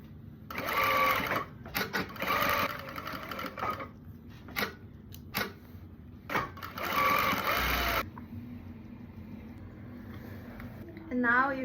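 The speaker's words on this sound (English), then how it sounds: "now we're going to stitch right over the seam we just made right here" A sewing machine stitches over a skirt seam in bursts of rapid mechanical whirring, stopping and starting several times, with quiet pauses between runs.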